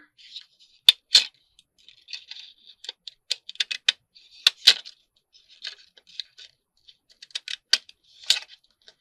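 Repeated crisp snips of decorative edge scissors cutting paper, irregular short bursts with brief pauses, close and fairly quiet, no talking.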